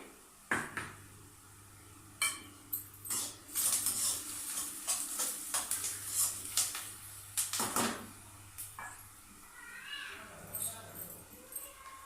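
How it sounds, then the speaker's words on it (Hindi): Onions frying in a pan toward golden brown, a low continuous sizzle broken by repeated sharp clinks and scrapes of a utensil against the pan, close by, with a low hum underneath. "प्याज को मैंने इसमें डाल दिया और प्याज को करूंगी मैं हल्का सा गोल्डन ब्राउन"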